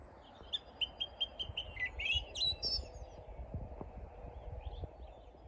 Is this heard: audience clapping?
no